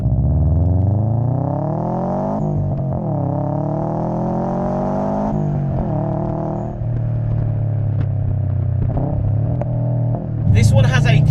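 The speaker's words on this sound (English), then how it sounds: "a full titanium catback exhaust system that sounds the absolute nuts and breathes real life into these newer Subarus" A 2017 Subaru WRX STI fitted with an Invader full titanium catback exhaust rumbles deeply at close range, with a couple of throttle blips lifting the pitch before it drops back to a burbling idle.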